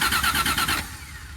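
A 1978 Plymouth Volare, left sitting in a junkyard for four years, cranking in a quick rhythmic churn for under a second before it drops off into a lower rumble.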